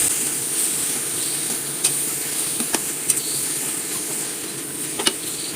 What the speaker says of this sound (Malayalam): ലോ ഫ്ലെയിമിലാക്കുക. നന്നായിട്ട് മിക്സ് ചെയ്തെടുക്കാം.